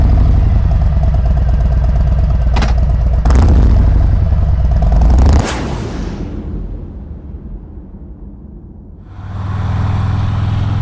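A motorcycle engine idles before a test ride, carrying a steady close rumble with a few sharp clicks, then cuts out to a quiet lull before the engine sound returns.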